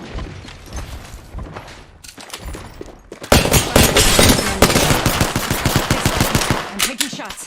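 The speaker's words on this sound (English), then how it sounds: "I'm taking shots. Firing." Video game gunfire, loud close bursts of rapid automatic shots in a steady stuttering rhythm that run for several seconds after some quieter shots, with no talk over them.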